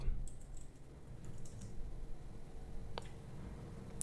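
A command is typed on a computer keyboard, soft quick key clicks in a short burst, faint and close, over a quiet room hum.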